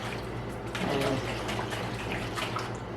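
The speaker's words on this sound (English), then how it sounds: "And I use a pint jar to measure 2 cups of water" Water poured from a tap into a pint glass jar to make salt brine for fermented garden pickles, a steady close rushing fill lasting throughout, with a brief spoken word at the start.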